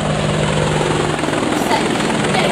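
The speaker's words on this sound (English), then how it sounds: "Dude, the helicopter's inbound." A helicopter flies in over trees, its loud, continuous rotor roar and whine filling the scene at close range without a break.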